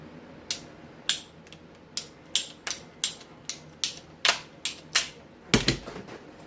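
Cutting 7/8-inch Heliax coaxial cable gives about a dozen sharp, evenly spaced snapping clicks, close and crisp, each like a ratchet or cutter biting into the cable, with a heavier crack near the end.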